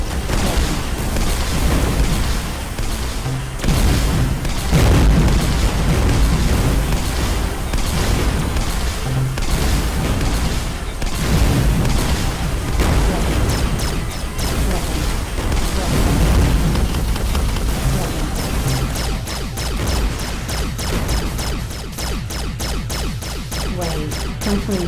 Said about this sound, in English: Not sure whether I like the cannon or the missiles most.